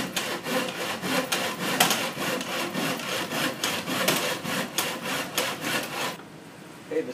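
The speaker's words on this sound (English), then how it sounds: "Stand the piece up in the miter box, and I'm going to cut this at a 45-degree angle." A hand saw strokes back and forth through wooden baseboard molding set in a miter box for a 45-degree cut, giving steady rhythmic rasping strokes, close and fairly loud, before stopping near the end.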